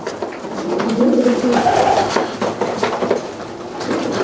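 Racing pigeons coo softly in low, repeated throaty notes, with scattered clatter and background noise around them.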